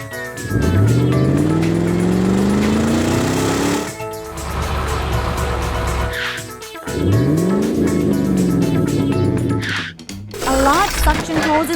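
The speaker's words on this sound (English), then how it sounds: "A car approaches and skids on the oil." Car skidding on oil spilled across a forest road by a cliff, loud engine roar with long rising tire squeals, a sharp break, then more screeching and revving close up.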